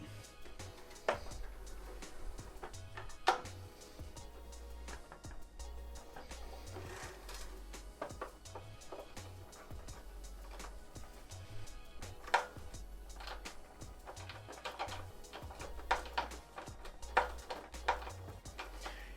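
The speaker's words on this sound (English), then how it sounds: "Takes a little bit longer with a screwdriver, but it does its job." A screwdriver drives a screw through a bench to mount a reloading press, making repeated low ratcheting and scraping clicks in an irregular rhythm, close and fairly quiet.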